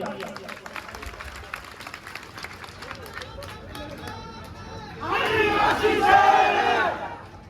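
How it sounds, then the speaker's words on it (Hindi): A crowd cheers, shouts and claps loudly at a political speech rally, the burst rising suddenly after a stretch of murmuring and scattered chatter, then fading near the end. "एक बार जोरदार तालियां"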